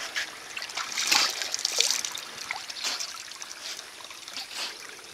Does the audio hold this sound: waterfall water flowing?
yes